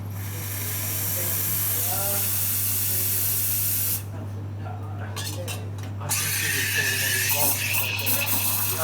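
An espresso machine steam wand purges water in a loud hissing spray that cuts off abruptly, followed by brief sputters and a renewed hiss, with a low steady machine hum underneath.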